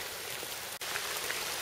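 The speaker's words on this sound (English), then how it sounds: "It's still raining." Steady rain pattering on the forest trees along a hiking trail, a dense, even wash of droplets with one brief dip partway through.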